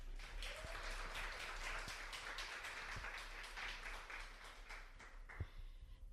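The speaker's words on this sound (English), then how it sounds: "A round of applause, please." Audience applause at a live podcast on communication in relationships: sustained crowd clapping heard from a distance in a room, fairly faint and even, with a few sharper claps near the end.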